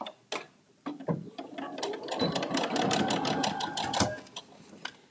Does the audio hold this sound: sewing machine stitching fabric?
yes